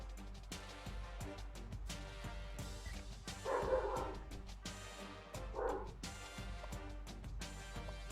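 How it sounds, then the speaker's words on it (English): Dogs bark at midnight in several quick, sharp bursts, faint and somewhat distant, over a steady low hum and background game audio, with no one talking. "my dogs are barking like it's the middle of the day"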